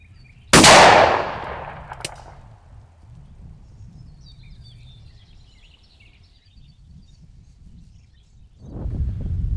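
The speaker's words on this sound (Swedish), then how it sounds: "Nu går jag över till halvvarning och skjuter igen med 37 grams sjuor i bly." A shotgun fires a single loud, sharp blast of 37-gram No. 7 lead shot through a half choke at a 20-metre range. The report decays quickly into quiet outdoor background, and a low rumble rises near the end.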